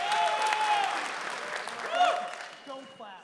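Audience applause at a fireside chat, a short burst of crowd clapping that fades over a few seconds while people talk over it.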